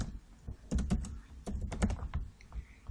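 Typing on a computer keyboard, close and crisp, with irregular clusters of clicking keystrokes and brief pauses between bursts, heard alone without talk.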